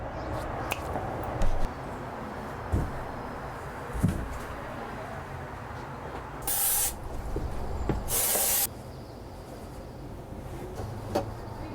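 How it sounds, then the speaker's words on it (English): Two bursts of hissing adhesive spray from an aerosol can, each about a second long, cut through a noisy van interior during a van build, with scattered knocks and handling sounds. "I'm gonna get my adhesive spray, spray it up there"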